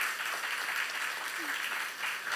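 Steady, quiet applause from a church youth congregation during a sermon, a soft continuous patter of many hands that holds evenly throughout without standout claps.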